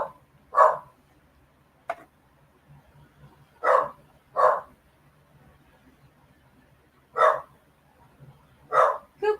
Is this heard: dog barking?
yes